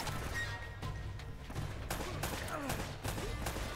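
Rapid bursts of gunfire from the video game Uncharted: Drake's Fortune, several sharp shots spread across the stretch with a steady layer of game background noise underneath.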